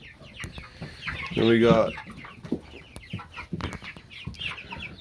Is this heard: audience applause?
no